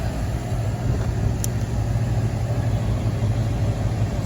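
The motor of a Carrier air conditioning unit runs steadily, a constant low hum and drone heard up close with no talking over it.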